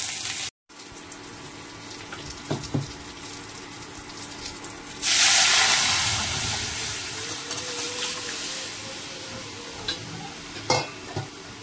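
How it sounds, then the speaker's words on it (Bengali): Chopped onion, green chili and garlic sizzle in oil as a tempering for dal, a close crackling fry that suddenly swells into a loud hissing burst midway, then settles back to a steady sizzle. "তো এটাই ফোড়ন দেবো ডালে"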